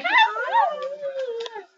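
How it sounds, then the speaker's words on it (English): A pet dog whimpers and yips close by in a short, high, wavering run of cries, alone without talk. "This is my dog."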